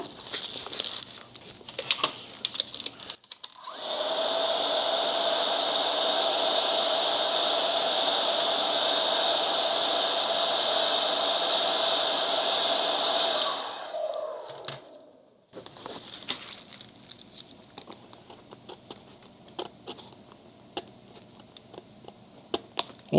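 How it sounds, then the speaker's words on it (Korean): A hair dryer whirs loudly for about ten seconds with a steady high whine, then winds down, surrounded by crinkling and tapping as material is peeled off a Nike Air Force 1 sneaker. "자, 그러면 이제 드라이기를 한번"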